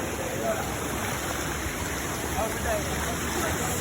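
Steady, broadband rushing of a river flowing in Manchester, Jamaica, a continuous even wash of water with no breaks, moderately loud and close.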